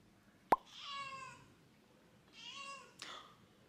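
A cat meows twice in a quiet room, two distinct drawn-out calls about two seconds apart, close by, with a sharp tap just before the first.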